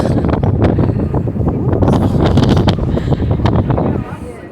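Cold wind buffeting the microphone atop the Eiffel Tower in Paris, a loud, gusty rumble with rustling bursts that fills the moment and eases slightly at the end.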